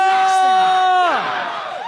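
A crowd at an esports match between RRQ and AE, game 3, cheers and applauds loudly. The roar is continuous, with strong whoops and yells over the clapping.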